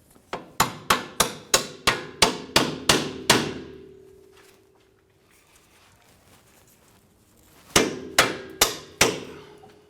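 Clevis bolts hammered into the front upper control arm of a 2004-2008 Acura TL, a close, loud run of about ten sharp metallic blows in steady rhythm, a pause, then four more strikes.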